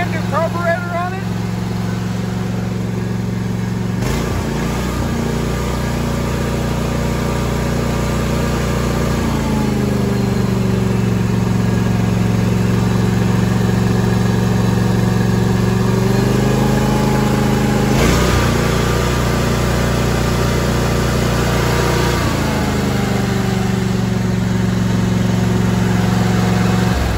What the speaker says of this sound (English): It has a 27 horsepower, a 3-liter Stratton engine with a brand new carburetor on it.